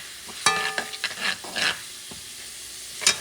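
Sofrito with tomato paste stirred in a pan for Puerto Rican arroz con salchicha, with a few sharp spoon clinks and scrapes over a light sizzle, close by.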